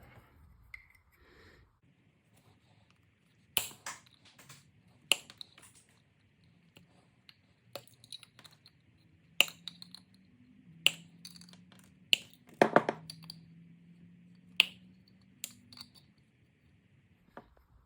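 Dart pegs are cut off an X-Shot Reflex 6 blaster with a series of sharp, irregular snips and clicks close by, scattered over quiet gaps, plus a short low creak midway.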